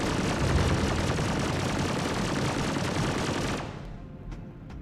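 Ship guns fire at turrets in the space game Star Citizen, a dense, loud, rapid rattle of continuous shots that suddenly stops and leaves a faint fading tail, with no talk.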